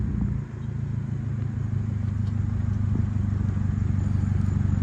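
A 2024 Subaru WRX with a Remark axle-back exhaust drives past outside, a loud, steady low engine drone with a throaty exhaust note and no talk.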